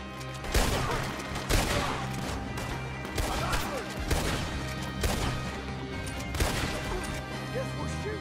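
Gunfire in the Red Dead Redemption 2 video game, with repeated loud shots and crashing impacts arriving in bursts over a dense background of game music and effects.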